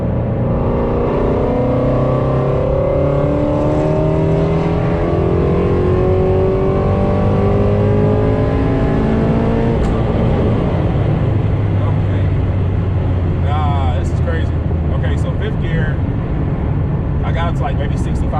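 Car engine pulling hard under turbo boost in fifth gear, climbing from around 3,000 to about 6,500 RPM, a loud continuous rising drone with a faint chatter of talk underneath.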